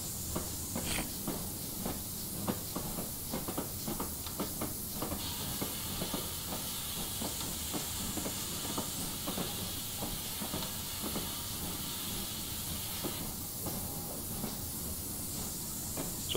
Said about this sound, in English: Safeties are going off again. Obviously put too much fire in there.